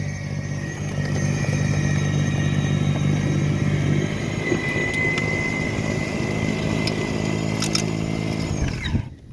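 An Ego two-stage snow blower clears 4 to 5 inches of plowed snow at the end of a driveway, a loud, steady droning hum that runs continuously and then cuts off abruptly at the very end.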